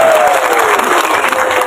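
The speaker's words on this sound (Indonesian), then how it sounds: "Amin, tepuk tangan semuanya." Church congregation clapping together at a pastor's call during a Christian youth sermon, loud dense applause heard close and sustained, with a faint tone gliding downward at the start.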